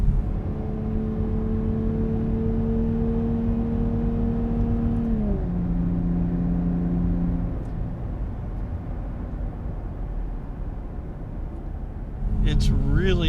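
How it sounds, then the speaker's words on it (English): A 2023 Nissan Z two-door sports coupe runs with a steady engine drone that drops in pitch as it shifts, then settles into a lower rumble with a rise near the end, heard from inside the car. "You buy it for that kind of acceleration, and you buy it for this kind of handling."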